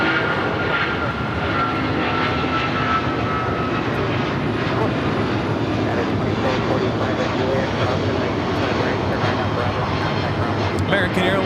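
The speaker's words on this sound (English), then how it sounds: "American Airlines 2766 off to Dallas, Fort Worth" An American Airlines jet departs LAX bound for Dallas–Fort Worth with a continuous loud engine roar that stays strong and even throughout, and people talk over the noise.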